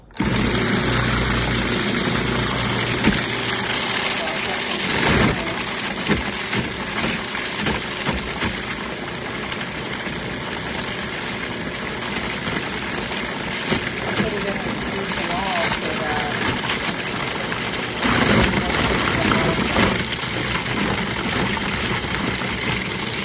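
A strong blender motor runs while pureeing for a heirloom pumpkin and black bean tamale, a loud steady drone that keeps on for over twenty seconds. Its pitch shifts slightly at a few points, and a voice is heard talking at times.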